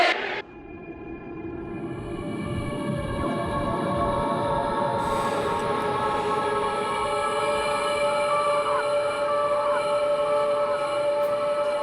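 New York's 7 train rumbles through Queens with a continuous loud roar, high metallic screeching and whining tones running throughout, no voices present.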